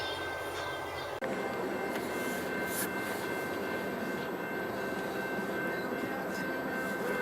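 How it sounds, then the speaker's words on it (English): A train rolls past in a continuous low rumble and rattle, steady and moderately distant, with no voices. "So, train still going by."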